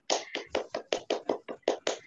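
A short burst of classroom hand clapping for a group of students, about ten sharp, evenly spaced claps in quick rhythm, close and clear with no talking.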